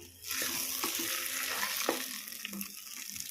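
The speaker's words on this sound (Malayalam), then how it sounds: "ഇനി നമുക്കിത് എരിശ്ശേരിയിലേക്ക് ചേർത്ത് കൊടുക്കാം. നന്നായി മിക്സ് ചെയ്ത് കൊടുക്കാം." Ground coconut stirred into jackfruit erissery in a pan: a steady sizzle and soft bubbling with scraping spoon strokes against the pan, close and moderately quiet, no talk.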